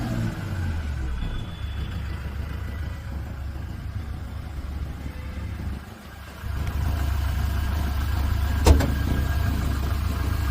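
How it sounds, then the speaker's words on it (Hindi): A 2019 Toyota Innova Crysta with only 44,000 km, in excellent condition and producing no smoke, idles with a steady, close engine drone that lifts briefly as it is revved. "गाड़ी में रेस दे रहे हैं, कोई स्मोक नहीं है"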